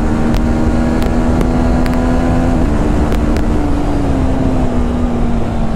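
A 2023 TVS Apache RTR 310 motorcycle engine holds a loud, steady high-rev drone up near the rev limiter, with the pitch wavering slightly and repeated brief cut-out clicks, plus a constant rush of riding wind.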